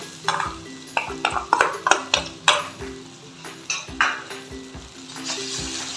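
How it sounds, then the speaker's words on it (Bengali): Fish curry with tomato, onion, ginger-garlic paste, kalonji, coriander and green chilli paste being mixed in a pan: repeated sharp metal scrapes and clinks of a spatula over a soft sizzle, close and without talk. "ভালো করে মিশিয়ে নেব। এবার এটাকে ভালো করে কষবো।"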